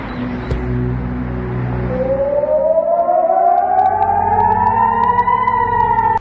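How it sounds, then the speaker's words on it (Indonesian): An air-raid siren in Ashkelon, Israel, after a drone interception, rises slowly in a long wailing sweep, loud and steady, after a burst of broad noisy rumble at the start. "sirene dan ledakan terdengar setelah intersepsi"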